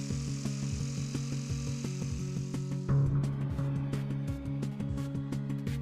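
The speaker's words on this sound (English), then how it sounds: "insert the jigsaw using a fibre plaster T141HM jigsaw blade. Proceed to cut the hole." A jigsaw fitted with a T141HM blade, pendulum action off, cuts a hole in a fibre cement facade panel, a steady, close, buzzing saw drone with a rapid rhythmic chatter that grows slightly harsher partway through.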